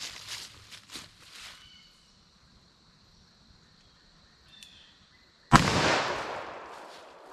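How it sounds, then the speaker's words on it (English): .44 Magnum, 230-grain round fired into a pumpkin: faint rustling and a quiet ringing tone, then one sharp loud gunshot near the end with a decaying tail. "Let's hit it with our 44 Magnum now."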